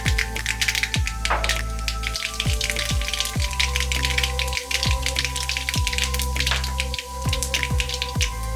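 Mustard seeds pop in hot coconut oil in a kadai, a dense run of sharp little crackles and spits over a steady frying hiss, close up with no talking.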